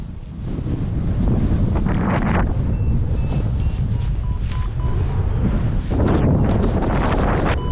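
Strong wind while paragliding on a hillside at Kozákov roars steadily across the microphone, loud and close, with gusts that swell and ease and no voices.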